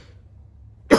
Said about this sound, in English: Oh, my coughing.